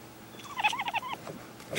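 Domestic cat giving a string of short chirping, trilling calls that sound bird-like, a quick burst of several chirps close to the microphone in a quiet room, followed by a softer trailing note.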